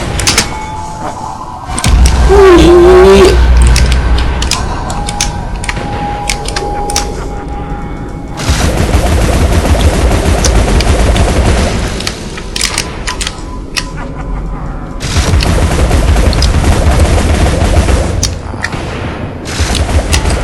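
Rapid gunfire crackles in long sustained bursts in the video game Alice: Madness Returns, with booming explosions and a rising electronic whine, loud and continuous.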